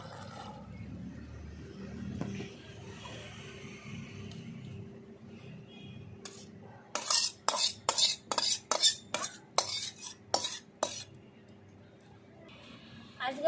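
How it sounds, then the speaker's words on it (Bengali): Stingray fish curry stirred in a pot, with a quick run of sharp metallic scrapes and clanks in the middle, near and loud, after a quieter stretch of low background hum. "ভালো করে নাড়িয়ে নিচ্ছি নামিয়ে দিচ্ছি এইবার"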